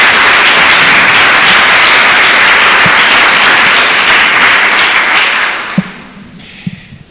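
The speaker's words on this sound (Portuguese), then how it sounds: "Dê uma salva de palmas a Jesus." Loud, dense applause from a church congregation clapping for Jesus, sustained and enveloping for several seconds before fading out, leaving a few scattered final claps.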